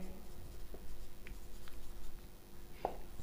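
Chalk or marker writing on a board in a maths lesson, a few faint scratchy strokes with one sharper tap near the end, under a steady low room hum.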